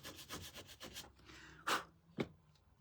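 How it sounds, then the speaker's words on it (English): Sandpaper rubbed over painted wood to distress a small turkey shelf sitter, with quick rhythmic rasping strokes up close followed by a few heavier scrubbing passes. "Sometimes I like to just roll the sandpaper like this."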